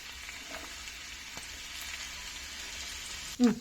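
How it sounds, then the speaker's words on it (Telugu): Pieces of garlic frying in oil give off a steady, soft sizzle throughout, ending in a short louder knock or clatter. "ఇప్పుడు ఇగో వెల్లిపాయ ముక్కలు ఇది ఎర్రగా వేగాలండి"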